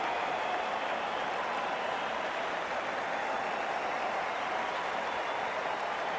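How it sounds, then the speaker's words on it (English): A cricket crowd at a women's Hundred match between Manchester Originals and Oval Invincibles claps in a dense, continuous wash of applause, steady and even throughout, with no talk over it. "There's an almost tangible fervour throughout the crowd at the moment."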